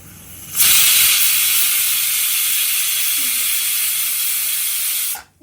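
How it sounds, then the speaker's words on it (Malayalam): A pressure cooker releases steam in a loud, sustained hiss that starts abruptly, holds steady for about four and a half seconds, then cuts off sharply. "ഇതിപ്പോൾ നല്ലപോലെ സ്റ്റീം വന്നു തുടങ്ങി"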